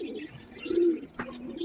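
A male Lakka pigeon coos in a close, continuous rolling call, with a brief sharper chirp partway through and no talk.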